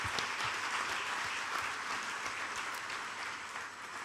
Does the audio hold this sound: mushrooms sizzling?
no